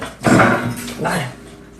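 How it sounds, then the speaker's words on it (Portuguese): A female dog barks in a couple of loud, close bursts, with a person talking over and between them. "Ó a cadela."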